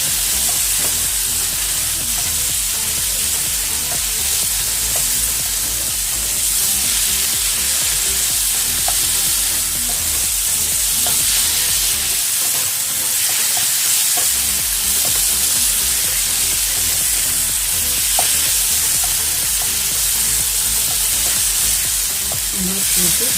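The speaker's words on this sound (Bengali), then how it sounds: "এটাকে নেড়ে নেড়ে একদম শুকনো করে ফেলতে হবে।" Chicken frying in a pan for chicken labanga latika, stirred over and over until dry, with a loud, steady sizzle and continuous scraping and turning throughout, close by and without talk.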